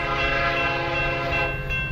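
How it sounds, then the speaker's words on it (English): A train horn blares in one long, loud, sustained chord with rumbling rail noise underneath, close and continuous with no voices. "They can't stop the train. You hear the train."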